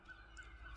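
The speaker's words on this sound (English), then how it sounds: "Can you hear the birds outside?" Birds outside a home call faintly in the distance, a few brief honking cries heard across less than a second, quiet and with no talk.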